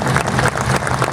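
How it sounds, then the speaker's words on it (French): Brief burst of thunderous audience applause at the Brescoudos gathering in Cap d'Agde, dense and loud throughout, with no gaps between claps. "je voudrais que vous leur réserviez un tonnerre d'applaudissements"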